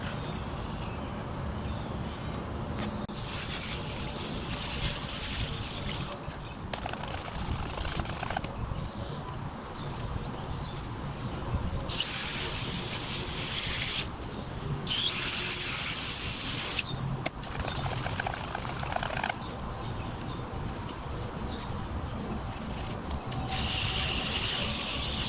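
A hose spray rinses foam off a Traxxas RC car in loud hissing bursts, switching on and off several times with short pauses between passes, close to the mic.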